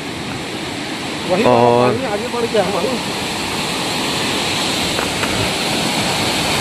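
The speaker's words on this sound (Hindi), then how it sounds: "ये जो है कांगेर धारा वाटरफॉल का नज़ारा है।" Kanger Dhara waterfall in Kanger Ghati National Park, a constant broad roar of falling water heard close, with a voice speaking briefly over it.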